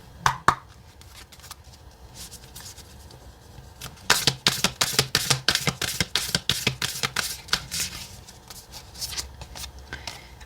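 A deck of oracle cards is shuffled with a few soft flicks, then a fast run of crisp, rhythmic riffling snaps, close and clear, with no talking.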